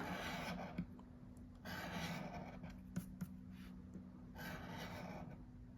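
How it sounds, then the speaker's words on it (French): Coin scratching the prize box of a Mega Goal scratch card: repeated raspy rubbing strokes in several bursts, close and soft, with small taps between strokes over faint hum. "On va quand même gratter la case gain après pour voir à côté de quoi on passe"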